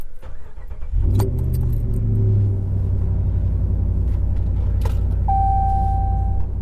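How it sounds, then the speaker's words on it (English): A pickup truck with a Carven Competitor Series exhaust and K&N cold air intake, heard from inside the cab with windows up: a starter crank, then the engine catches into a deep, steady idle rumble, with a brief chime and small rattles. "I'm going to start up the truck."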